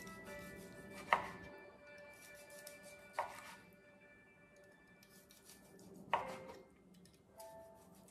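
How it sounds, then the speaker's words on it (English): A knife cuts through grilled, marinated Thai beef on a board, three sharp chopping strikes spread a few seconds apart with quiet gaps between them. "Cut into thin slice so it's easy to eat."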